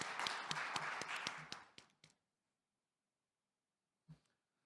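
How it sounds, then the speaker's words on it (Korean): A small audience claps to welcome a presenter at a corporate compliance forum and award ceremony. The quiet, crisp individual claps last about two seconds, then stop into near silence with one soft thump later. "박수로 함께 환영해 주시기 바랍니다."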